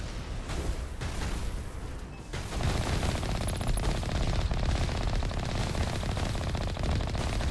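Sustained rapid automatic gunfire from Mass Effect combat, loud and continuous, with a short dip partway through before the firing resumes even more densely.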